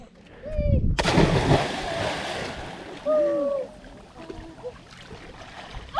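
A person cliff jumping plunges into water with one loud, broad splash that churns on for a moment, after brief talk before the leap; voices and outdoor ambience follow.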